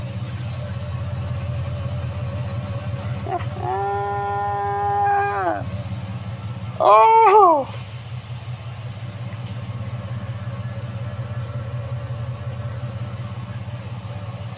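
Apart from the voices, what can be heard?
1971 Chevelle exhaust rumbling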